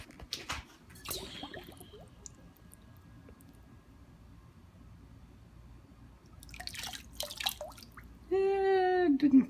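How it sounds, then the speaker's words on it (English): A torch-heated glass bottle is plunged into water, giving soft splashes and drips before a sudden steady hiss with a rising whistle-like tone near the end. "And then you dunk it in the water."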